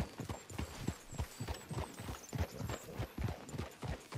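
A horse's hooves clip-clop at a steady walking pace in Red Dead Redemption 2, with soft repeated thuds about twice a second, close and continuous under quiet game ambience.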